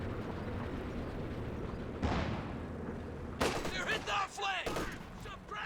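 Artillery and an infantry support gun lay down a barrage in Company of Heroes 2 while a 50 cal is targeted, heard as a steady rumbling wash of distant fire with a sharper burst of blasts near the end.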